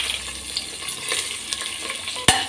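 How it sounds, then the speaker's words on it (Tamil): Chopped onions fry in hot ghee with spices for ghee rice, giving a close, continuous sizzle broken by light stirring scrapes and a sharp clink near the end. "2 ஆனியன் போட்டிருக்கேன், கட் பண்ணி போட்டிருக்கேன்."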